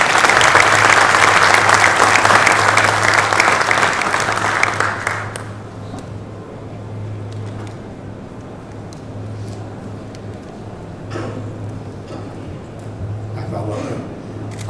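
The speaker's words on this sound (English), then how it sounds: "give a warm round of applause for Akbar, Group Chief Executive of Qatar Airways" Loud, dense applause from a conference audience greeting the Group Chief Executive of Qatar Airways, sustained for about five seconds before it cuts off to a quiet room with faint murmuring and scattered sounds.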